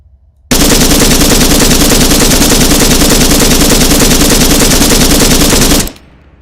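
Sustained machine gun burst fired in a marksman-weapon video game, one continuous rapid rattling volley lasting about five seconds, very loud and close, ending abruptly.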